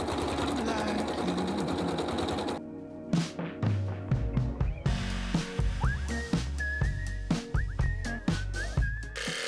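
A sewing machine stitching free motion embroidery on fabric scraps. A steady whirring run gives way to short, rhythmic bursts of stitching, with high whistle-like tones over part of it.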